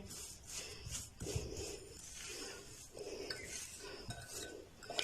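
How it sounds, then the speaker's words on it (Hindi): An inverted spoon rubs and mashes a spice mixture into a paste in a bowl, repeated scraping strokes with soft clinks in a steady rhythm, close and quiet. "मसाले को अच्छी तरह इस तरह उल्टी चम्मच के साथ मसलेंगे ताकि अच्छी तरह ये पेस्ट की शक्ल में आ जाए।"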